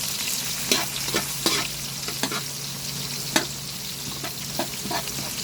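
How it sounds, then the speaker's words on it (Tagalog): Garlic and onion sautéing in a hot pan for pancit, a steady sizzle broken by scattered clicks and scrapes of a spatula stirring, close and alone without any voices. "Sunod naman natin pag-isa ang bawang tsaka sibuyas para sa pancit."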